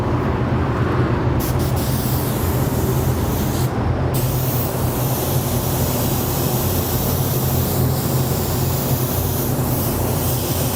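A spray gun hisses steadily while laying Createx paint over a taped checkered pattern, a loud, close, continuous airy rush with only a couple of brief gaps.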